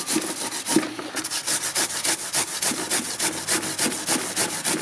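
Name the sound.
grinding material with a power tool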